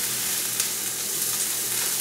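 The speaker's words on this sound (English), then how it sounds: "So I just have the cabbage and the kale in the frying pan at the moment. And we're stirring it up." Cabbage and kale stir-frying in a frying pan, a steady close sizzle with soft crackle running evenly throughout, no voices.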